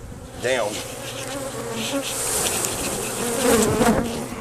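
A dense swarm of honeybees buzzes loudly and continuously all around, close by, with individual bees whining past. Someone says a single brief word partway through.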